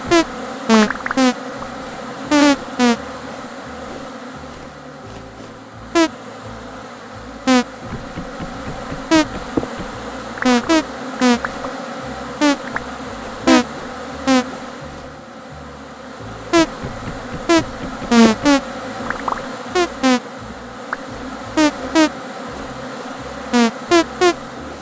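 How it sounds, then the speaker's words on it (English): Bees hum steadily around an apiary in the game Vintage Story, a continuous droning buzz with repeated sharp clicking accents throughout. "now that we're away from all the bees buzzing"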